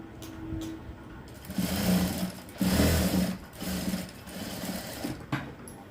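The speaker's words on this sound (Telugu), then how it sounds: "ఈ విధంగా స్ట్రైట్గా కుట్టు అయితే వేసేసుకోవాలి" A sewing machine runs straight stitches along a folded blouse hem in bursts, whirring nearby with short pauses between runs and a steady low rumble.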